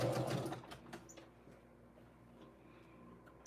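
A sewing machine stitches a quilt block with a short backstitch, a quick burst of rapid mechanical ticking up close at the start, then quieter faint clicks and handling.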